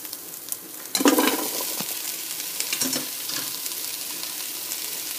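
Sliced carrots drop into a pot of onions in olive oil, and a bright sizzle flares up, then settles into a steady crackling fry with a few soft scrapes of stirring.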